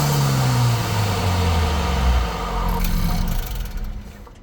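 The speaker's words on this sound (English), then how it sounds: "I'll leave you guys right here to hear this stock intake" A 2025 Honda Civic Si engine with its stock intake revving to around 2,000–3,000 RPM, a loud close rumble whose pitch falls as the revs drop back toward idle, with no voices.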